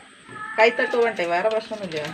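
A cat cries out in a series of drawn-out, wavering meows, fairly close and loud, with a quiet background.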